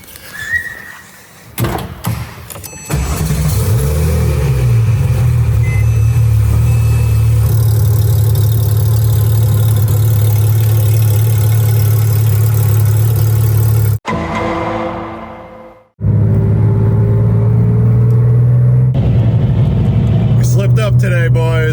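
A Porsche 997.2 GT3 RS engine fires up and settles into a loud, steady idle, cutting out briefly before catching again, with people talking nearby.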